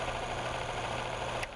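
An engine cold-started with its oil supply removed, during a lubricant test, runs as a steady loud mechanical drone with constant vibration and no talking, then cuts off abruptly at the end.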